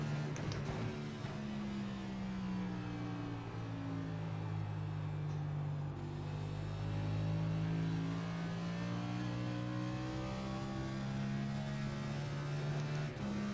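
NASCAR NextGen race car at Milwaukee in iRacing, its engine holding a steady, loud drone with slow pitch swells as it laps, heard alone with no talk.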